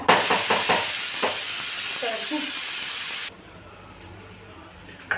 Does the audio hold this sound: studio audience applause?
no